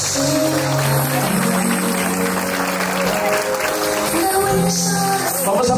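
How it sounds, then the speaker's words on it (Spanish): Guests clap at a quinceañera celebration as the girl's parents are honored, the applause running steadily beneath loud, sustained party music with a tonal melody throughout. "Me le dé un fuerte aplauso a los padres de la quinceañera, a Alba Cortés y el señor Marco Antonio Muño"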